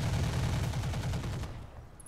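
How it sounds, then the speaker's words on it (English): A full salvo fired in the video game Roguepoint: a rapid string of heavy, closely spaced gunshot blasts rolling for over a second, then quickly fading away. "I'm going to dump it on this guy. And fire. Firing a full salvo."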